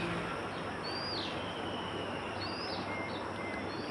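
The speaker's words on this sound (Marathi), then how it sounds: "खूपच शांतता, एकदमच पक्ष्यांचा आवाज" Birds call and chirp near a temple in the Konkan countryside, a few thin whistled notes rising over a soft, steady outdoor hiss with no talking.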